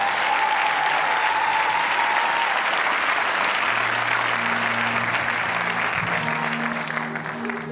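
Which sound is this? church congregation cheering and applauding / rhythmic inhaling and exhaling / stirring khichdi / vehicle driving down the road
church congregation cheering and applauding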